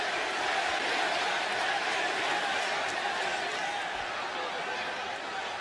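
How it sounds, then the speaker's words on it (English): Packed WWE wrestling arena crowd makes a continuous, loud, roaring wash of cheering and crowd noise that stays steady the whole time, with no distinct voice standing out. "This crowd is alive."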